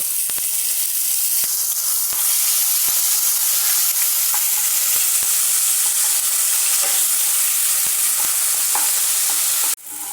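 Ground prawn paste fries in oil with a loud, continuous hiss and sizzle, punctuated by occasional soft clicks and taps from a utensil, and a brief break near the end with no talking.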